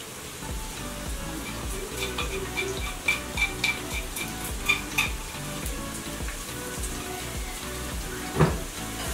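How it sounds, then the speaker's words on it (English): Onions and ground garlic frying in oil in a pan, a steady close sizzle with occasional light stirring clinks and utensil taps against the pot, no voices. "I'm going to cook the onions until they are golden brown before I add my rabbit meat."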